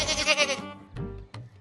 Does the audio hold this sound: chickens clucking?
no